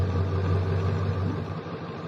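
A farm truck's engine runs steadily at close range during oat planting, a loud low idle drone that holds evenly, then eases slightly toward the end, with no talking.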